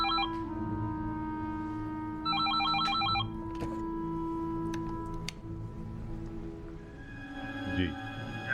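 A telephone rings in an Iranian drama, repeated electronic bell trills sounding in bursts over a low steady hum, with faint tonal beeps toward the end.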